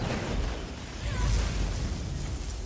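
Jindahad's Ice Nova attack in Monster Hunter Wilds erupts as a deep, roaring blast with a rumbling low burst and swirling whooshes, sustained and loud throughout.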